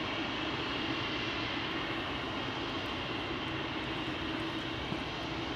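A jet airliner departs from runway 18L, the Aalsmeerbaan, at Amsterdam Schiphol Airport, with a steady, loud broadband engine roar sustained throughout at constant level.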